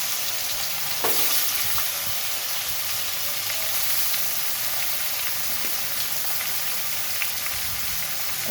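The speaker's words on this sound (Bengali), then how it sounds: "পেঁপে আলু ভেজে নেব। আলু পেঁপে সেদ্ধ করে রেখেছিলাম, এবার আমি সব ভেজে নেব।" Boiled papaya and potato pieces fry in a pan with a little ginger, a continuous close sizzle with occasional spoon scrapes and light clatter, no talking.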